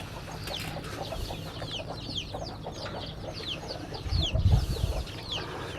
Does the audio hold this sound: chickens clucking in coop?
yes